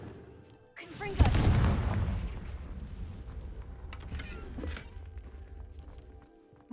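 In Hogwarts Legacy, a Confringo blasting spell lands as one loud, booming explosive burst, followed by a long rumbling decay and some crackle.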